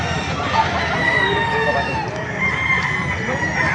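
Roosters crow over a constant din of clucking chickens at a chicken market in Baliuag, Philippines, a crowded, busy flock heard close by.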